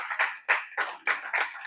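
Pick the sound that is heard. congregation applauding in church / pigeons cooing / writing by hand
congregation applauding in church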